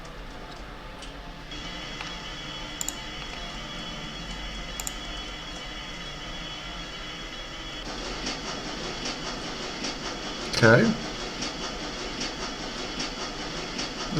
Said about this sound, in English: the train rumbles its way towards the Brandenburg Tour